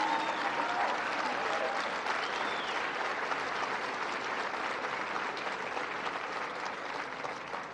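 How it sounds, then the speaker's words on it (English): A big crowd applauds for the governor at a political rally in Iowa, dense continuous clapping with faint cheers and voices mixed in, steady and full for nearly eight seconds. "Would you all mind giving a big round of applause to the 43rd governor of the great state of Iowa, Governor Kim Reynolds?"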